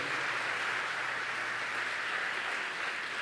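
A church congregation applauding during a service, a dense, even wash of many hands clapping that holds steady throughout, full and sustained without distinct individual claps.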